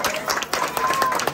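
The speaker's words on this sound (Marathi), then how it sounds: "जोरदार टाळ्या वाजवायची आहे." A short burst of crowd applause at a Sai Baba temple anniversary function, scattered clapping mixed with voices.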